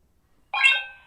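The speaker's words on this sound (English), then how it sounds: "And then I heard a beep." A Creality Hi Combo camera for a 3D printer gives one short, clear electronic confirmation tone close by, a single bright beep that rings and fades after a moment of silence.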